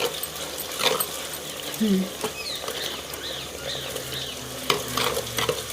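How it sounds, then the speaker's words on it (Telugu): Onions are stirred and fried in a pan, with a constant close sizzle and several scraping stirs. Faint background sounds come and go over the frying. "ఎర్రగడ్డలు అయితే కలుపుకుందాం కాస్త మగ్గనిచ్చుకుందామండి"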